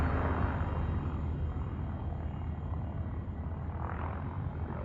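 Spaceship engines boosting with afterburners in a video game, a steady low roaring rumble with a broad airy whoosh that stays constant and fairly close throughout.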